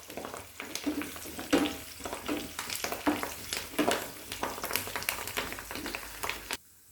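Cashews and dried red chillies frying in oil for a Udupi-Mangalore chicken urval: soft sizzling broken by repeated rhythmic scrapes and taps of a spatula against the pan, then a sudden stop.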